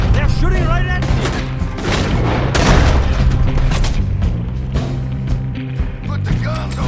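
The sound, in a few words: gunfire in the video game Red Dead Redemption 2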